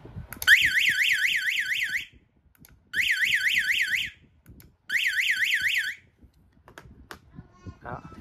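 Wireless interconnected fire alarm siren under test, three loud bursts of a rapidly warbling electronic wail separated by short pauses, close by, with brief quiet clicks and faint background sounds between them.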